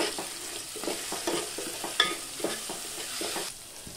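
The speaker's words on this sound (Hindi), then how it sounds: "हल्दी, कांदा लहसुन मसाला डालकर अच्छे से भून लेंगे।" Spices, cumin, curry leaves, ginger-garlic paste, turmeric and onion-garlic masala, sizzle in a pan for moong dal, with a steady fry hiss and repeated scraping stirs of a spoon against the pan.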